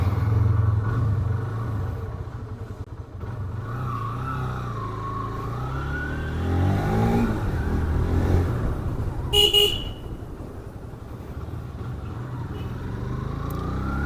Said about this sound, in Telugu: సో బైక్ మీద అయితే వెళ్ళిపోదాం.